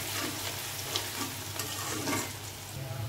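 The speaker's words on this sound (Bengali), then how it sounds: "পেঁয়াজগুলোকে লাল লাল করে ভেজে নেব।" Onions fry in a pan with cardamom and cinnamon, a brief, steady close sizzle with soft stirring.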